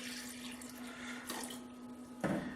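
Water poured into a pot of baby back ribs for boiling, a steady close pouring stream that swells louder near the end, over a constant low electrical hum.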